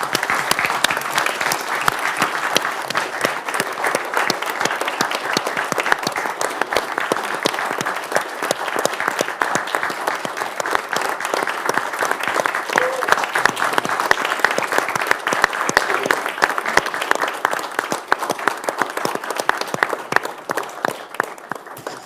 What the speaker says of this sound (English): And let's give him a round of applause for that.